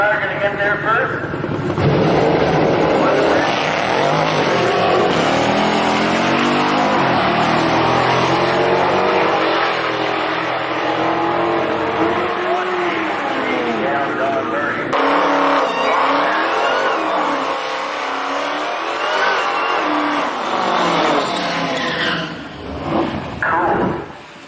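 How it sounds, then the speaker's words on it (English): A Dodge Demon and classic muscle cars, including an old Dodge Cuda, do burnouts and drag race, engines roaring hard with revving and screeching tires, loud and sustained, while a voice talks over it. "The purpose for spinning tires like that is to get them extra warm."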